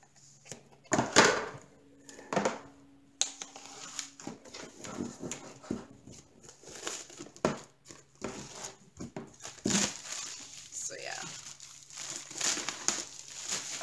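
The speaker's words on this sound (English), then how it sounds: "why is it so hard to open the plastic?" Plastic packaging being wrestled open, with close, irregular bursts of crinkling and crackling separated by short pauses, plus a few soft knocks and rustles, heard alone without talk.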